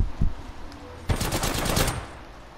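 Energy gun fire in Apex Legends: a brief shot, then a rapid near, loud burst of automatic fire lasting about a second before fading out.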